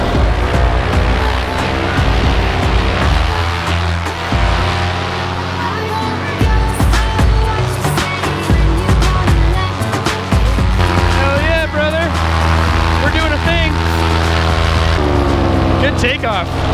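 A paramotor engine drones loudly and steadily as a pilot takes off from Hampton Beach, its pitch rising and falling with throttle and wind rushing over it.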